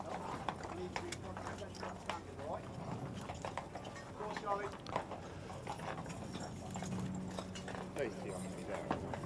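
Hooves of a cavalry escort's horses clip-clop on a parade route during a royal state welcome, steady uneven beats under continuous crowd noise and someone talking over them.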